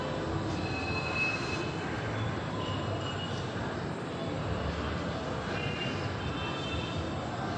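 An LRT light rail train rumbles steadily along the tracks with broadband roar and faint high squeals from the wheels, continuous throughout, fairly close.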